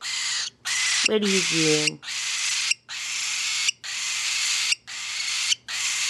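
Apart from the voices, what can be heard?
pet bird screaming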